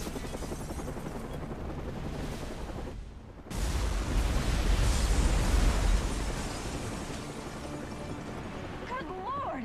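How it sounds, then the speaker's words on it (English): A massive explosion at the Gotham Royal Hotel in Batman Arkham Origins, a sudden loud roaring blast that swells and rumbles over a few seconds after a brief hush, with a noisy crowd and voices around it. "This is Vicky Vale reporting live from the Gotham Royal Hotel, where there has just been a massive explosion."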